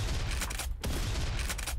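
Gunfire in the video game Garry's Mod comes as a dense, continuous burst of rapid shots with a brief gap in the middle, loud and close throughout.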